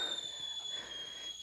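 A stovetop coffee maker whistles steadily as its water comes to a boil, a thin continuous high-pitched tone held throughout over faint background hiss.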